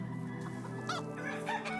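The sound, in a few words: chickens clucking in hen house, Medieval Dynasty video game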